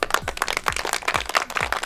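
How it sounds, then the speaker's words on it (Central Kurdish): Rhythmic hand clapping for a young village schoolchild, a steady series of sharp, fairly close claps repeating about every half second across the whole stretch. "ئافرین هەر بژی یەک چەپڵە بۆ ئاو دێر"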